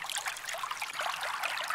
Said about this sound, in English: We have general water recordings.